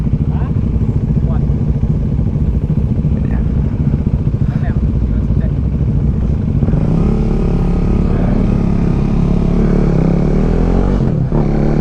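KTM 390 Duke single-cylinder motorcycle on a warm-up lap at a track day, engine droning loudly and steadily throughout with a shift in tone partway through and wind rush, heard from the rider's position.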